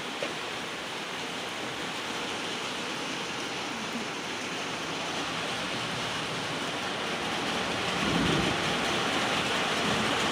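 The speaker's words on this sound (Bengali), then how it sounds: "বৃষ্টি হচ্ছে" Steady rain falling outdoors on a calm, windless day, a dense even hiss throughout that swells slightly louder near the end, with no voices.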